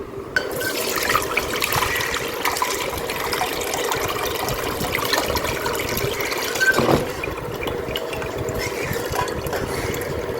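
Homemade bio enzyme liquid, made alongside apple cider vinegar, is strained through a filter, giving a steady close trickle and splashy pouring throughout, with a brief louder surge partway through.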